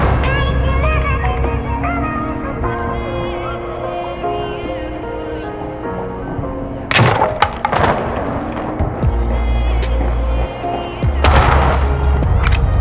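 Gunfire in Rainbow Six Siege during the Sisters mission in Archive 2.0, with loud, close shots and sharp cracks coming in bursts, mixed with thuds and game sounds under a musical background.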